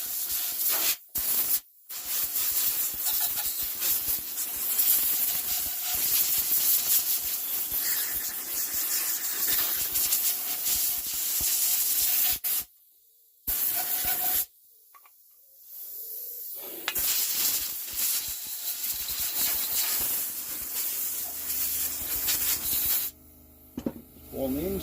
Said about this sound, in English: with compressed air, most of that will just blast off it